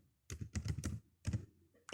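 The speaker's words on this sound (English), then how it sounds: "Then key in, type in the title you want, say department" Computer keyboard keys tapped in a few quick bursts while entering a title into an Excel spreadsheet cell, close and clear with brief pauses between clusters of keystrokes.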